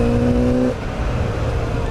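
Remapped Yamaha XJ6 motorcycle engine at idle, a close, steady low rumble with a brief higher tone that drops out partway, leaving an uneven, sagging idle that sounds about to stall.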